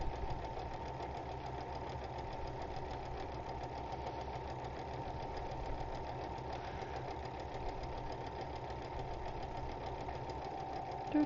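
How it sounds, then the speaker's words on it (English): A sewing machine stitches small quilt pieces with a continuous, even mechanical hum and rapid needle rattle that runs steadily throughout at a moderate, slightly distant level, with no speech. "so I'm just sewing those up real quick."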